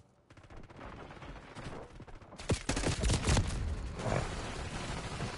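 Gunfire in Call of Duty Black Ops 6, a dense fusillade of rapid shots and bursts from several directions, growing louder and heavier midway with sharp close cracks over a constant crackling din.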